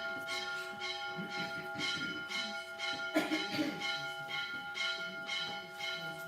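Church bells ring in a steady repeating pulse over a continuous ringing drone, with faint background murmur and a brief clatter in the middle.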